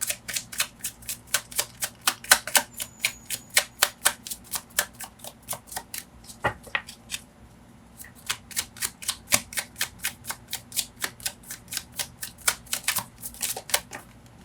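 Tarot cards are shuffled in quick, crisp riffling bursts of rapid clicks. The sound is quiet and close, with a brief pause partway through before the shuffling resumes.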